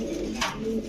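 Pigeons of fancy breeds kept in a loft cooing softly at close range, a low steady murmur with a brief brighter rustle midway, no talk.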